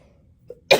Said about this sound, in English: I hate coughing in my hands